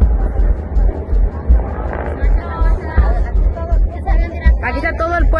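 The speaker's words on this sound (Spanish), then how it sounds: "aquí está el helicóptero ya viene aterrizando, bajando" A helicopter landing near a gathered crowd of villagers in Guerrero, a heavy, continuous rotor rumble and thump under loud talking and crowd babble, with the voices rising above it toward the end.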